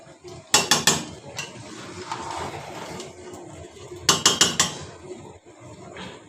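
Mutton biryani rice being turned over in a pot, with two bursts of loud metallic scraping and clanking from a spoon against the pot, separated by quieter rustling, and no talk.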